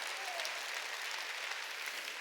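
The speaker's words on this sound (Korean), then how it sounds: "이건 유익한 걸 믿으면 박수야." Church congregation applauding during a Sunday worship service sermon, a dense steady patter of many hands clapping continuously throughout, fairly distant and even in level.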